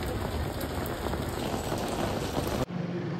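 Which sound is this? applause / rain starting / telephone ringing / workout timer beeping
rain starting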